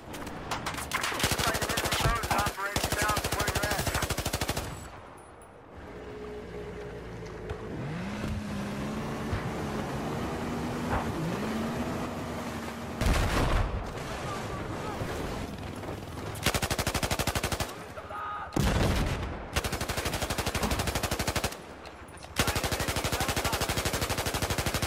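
Light machine gun fire in Battlefield 4, coming in long, loud sustained bursts broken by brief pauses, with engine-like revving and other battlefield noise between volleys.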